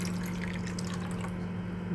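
Water is poured into semolina in a kitchen, a short steady splashing trickle over a low hum, with no talking.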